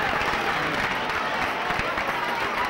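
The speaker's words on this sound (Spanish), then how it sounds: "Un fort aplaudiment per a les guanyadores de la categoria alevins femenins" Crowd applause for the girls' category winners at a school cross-country race prize ceremony, a short, steady wash of clapping with crowd murmur throughout.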